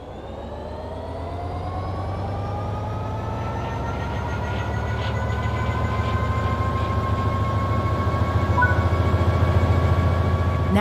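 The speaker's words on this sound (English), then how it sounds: "Apply some throttle to get the train moving." Simulated train in Train Sim World 3 pulling away under throttle, a steady engine and rail rumble with rising whining tones that slowly grow louder as it picks up speed, heard alone without talk.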